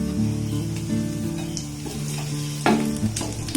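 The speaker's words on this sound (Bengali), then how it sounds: "আমি এই তেলের মধ্যে দিয়ে দিচ্ছি" Whole cumin seeds sizzle in hot cooking oil with a dense, continuous crackle and a few louder spits, heard under steady tonal background music.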